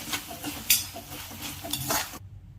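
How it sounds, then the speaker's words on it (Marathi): Two or three black peppercorns and cloves fry in hot oil for a restaurant-style matar paneer masala. A spoon stirs and scrapes the pan in quick strokes over a continuous close sizzle, which cuts off abruptly. "तेल टाकून घेतलंय, हे 2-3 काळे मिरी आहे, 2-3 लवंग आहे, ते टाकून घ्यायचंय आपण।"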